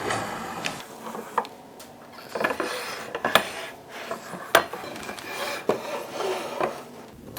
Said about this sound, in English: We'll get those boards loaded into the clamps.